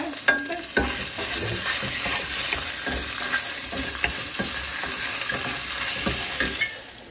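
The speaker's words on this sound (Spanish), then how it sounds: "aquí está ya la cazuela con el aceite calientito. Le vamos a poner el pollo." Chicken pieces frying in hot oil in a casserole pot, a constant close sizzle with scattered spatula knocks and scrapes, a sharp clatter near the start.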